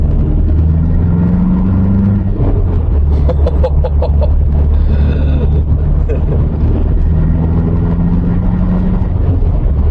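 Car engine heard from inside the cabin as it accelerates, a steady loud rumble with a high whistling tone rising over it partway through.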